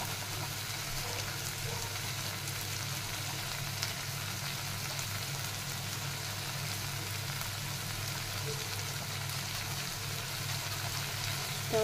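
Grated tomato and onion sauté in a pan for a prawn khima, giving a steady, even sizzle that holds at one level throughout with no talking.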